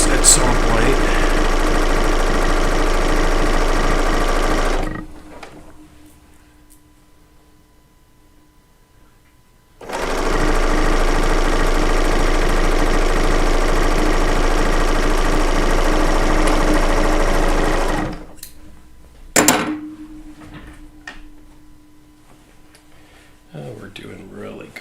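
A serger sewing machine running in two long steady stretches, a loud close mechanical whir split by a pause, followed by a brief clatter and quieter handling sounds.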